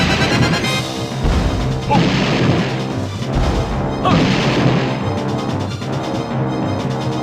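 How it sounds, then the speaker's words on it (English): Grenade eggs exploding in the Nintendo 64 game Banjo-Tooie during a boss fight, a string of loud crashing blasts landing every second or two over steady game music. "Grenade eggs."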